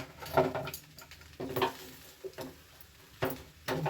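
Vegetable fried rice being turned over in a hot pan, with soft scraping stirs and a light sizzle recurring in short bursts every second or so, close up, with no one talking.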